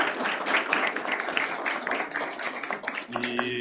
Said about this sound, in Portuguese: palmas para a Bela Vista, para o professor Ricardo